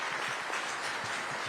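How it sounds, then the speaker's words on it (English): The audience at the Times Now Summit gives a short round of applause during a session with A.R. Rahman. The hall fills with a brief burst of steady, mid-distance clapping and no speech. "Huge round of applause for that one."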